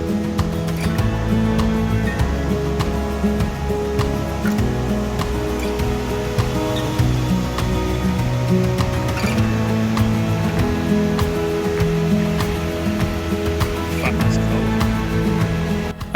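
Pacific Ocean surf rolls steadily onto Wickaninnish Beach near Tofino, a continuous loud wash of waves mixed with a low rumbling hum, with no one speaking.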